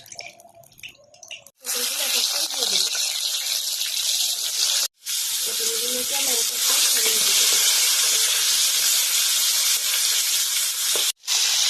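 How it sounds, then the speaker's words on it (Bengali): Oil hisses loudly in a hot kadai, a dense steady sizzle that starts abruptly and runs continuously, with two short breaks, after a quiet opening with faint low voice. "কড়াটা গরম হয়ে গেছে, কড়ার মধ্যে আমি এখন তেল দিয়ে দিই।"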